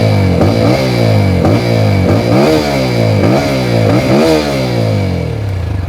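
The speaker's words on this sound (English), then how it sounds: "Very throaty beat from what we know for the Apache." A 2020 TVS Apache RTR 200 BS6 motorcycle with dual shotgun exhaust, revved repeatedly in short rising bursts over a throaty idle, loud and close, with no talking.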